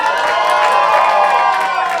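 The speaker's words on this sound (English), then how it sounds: "A round of applause for them." A large live audience at a comedy club show claps and cheers loudly and steadily, a dense wash of applause with whoops that fills the whole moment without letting up.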